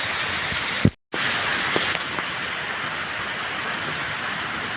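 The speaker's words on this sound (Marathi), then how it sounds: "मित्रांनो, पाऊस बघा जोरात चालू झालेला आहे." Heavy first monsoon rain falls in coastal Konkan at Kalvi Bandar, Vengurla, a steady dense hiss that stops abruptly for a moment near the start and then returns, with a few faint knocks over the continuous downpour.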